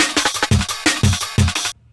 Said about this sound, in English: for the breakbeat, I found a pretty nice one in a jungle drum and bass pack